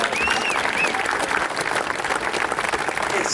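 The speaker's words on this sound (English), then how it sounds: "All right, give them a round of applause." An audience at a charity foundation event gives a round of applause: dense, steady clapping from a sizable crowd that lasts throughout, with a few faint whistles mixed in.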